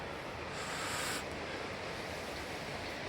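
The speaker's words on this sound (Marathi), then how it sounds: "अजून नदीचा आवाज आहे." Steady rushing water of a river in the Tirthan valley, Himachal, on a morning outdoors, a broad continuous wash with a brief brighter hiss early on, no voices.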